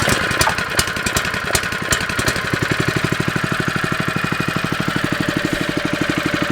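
A Honda engine driving a water pump on a Hilux homestead water truck runs at low revs, a close, steady rapid thudding putter after a few uneven beats at the start, alone with no voices.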